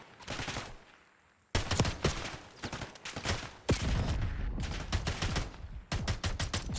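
Pistol gunfire in the Black Ops 6 video game comes in rapid bursts of sharp, loud cracks, with a brief pause between volleys.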